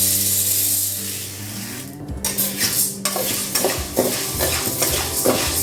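Dry urad dal being roasted and stirred in a hot pan for ulunthu puttu, with a steady dry rustle and scraping of a spoon against the metal pan, close and continuous with irregular clinks.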